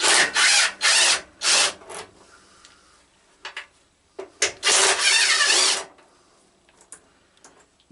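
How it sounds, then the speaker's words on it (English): A wrench works loose the bolts on a hydrostatic drive, giving several loud, harsh mechanical bursts about half a second long, with quieter scraping and clicks between them and no voices. "Disconnect these two bolts."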